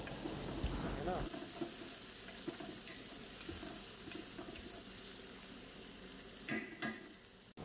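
Carrot slices frying in browned spice paste in a pan: a soft, steady sizzle with occasional stirring scrapes, faint and close throughout.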